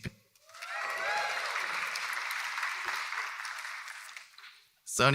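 Sustained audience applause at a creative economy report panel at Otis College of Art and Design swells within half a second, holds steady for about four seconds, then fades before a voice starts speaking.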